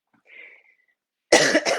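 A faint breathy sound, then two sharp, loud coughs in quick succession, close by.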